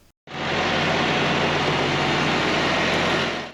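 A Kioti NX hydrostatic tractor engine runs at a steady, loud, close roar that cuts in abruptly and holds evenly throughout, a low rumble under broad mechanical noise, with no voices.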